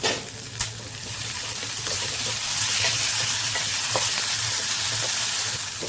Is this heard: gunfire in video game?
no